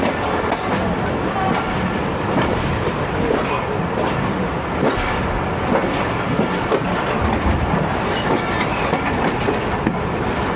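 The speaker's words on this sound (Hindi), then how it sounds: "लाहौर जंक्शन के यार्ड से आहिस्ता आहिस्ता निकलते हुए" Awam Express passenger train pulls slowly out of the Lahore Junction yard, wheels clattering in a dense, loud, continuous rumble with rhythmic clickety-clack over rail joints, heard close from on board.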